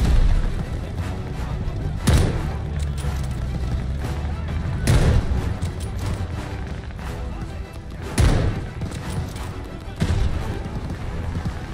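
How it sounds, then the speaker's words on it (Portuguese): Call of Duty Vanguard campaign gunfire on Xbox Series X, heavy booming shots landing every couple of seconds over a constant rumbling battle bed, loud and close, with a voice talking underneath. "Atirando e eles não estão nem vendo onde tá vindo o tiro."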